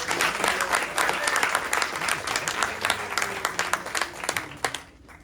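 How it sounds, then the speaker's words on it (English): A theater audience at a Brooklyn youth company performance gives a round of applause for the tech crew, dense, lively clapping with a few whoops that thins into scattered claps before fading out. "I would like to give one more round of applause to our tech."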